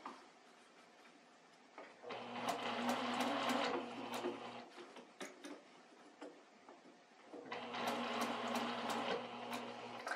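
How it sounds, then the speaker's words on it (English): A sewing machine stitching inset fabric circles runs in two slow, steady bursts of rhythmic mechanical whirring and ticking, separated by a quiet pause with small handling clicks. "the secret to sewing inset circles is really just going slow, taking your time"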